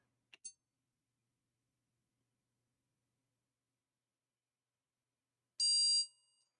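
Prusa MK4 3D printer sounding its load cell nozzle-tap test: a brief faint chirp, then after a long silence a louder, sustained electronic beep lasting about half a second.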